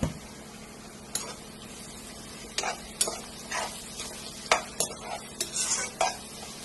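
Onions with salt cook in a pan, giving a soft, low sizzle broken by a series of sharp metal scrapes and taps from stirring, close and moderately quiet, with no talking.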